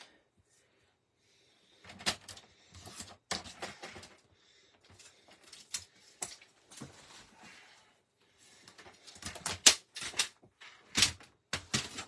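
Cardstock is cut for a fun fold card in short, sharp bursts of slicing and clacking from a paper cutter, arriving irregularly and close, with near-silence between bursts.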